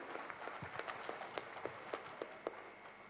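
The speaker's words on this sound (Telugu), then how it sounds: "ఒకసారి గట్టిగా క్లాప్స్ చేద్దాం పిఎంసి ట్రస్ట్కి" Audience applause for the PMC trust at a Dhyanamahayagnam gathering: a faint, distant patter of scattered hand claps with a few sharper individual claps standing out, continuing steadily for about three seconds.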